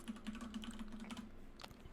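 Quiet, rapid keystrokes tap out a name on a computer keyboard in a short, steady burst of clicks with no speech.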